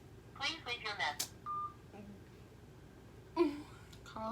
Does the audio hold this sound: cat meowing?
no